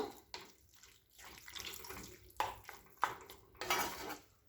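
Water runs and splashes into a metal pan of potato masala curry in uneven bursts, with a few clinks of cookware between the pours.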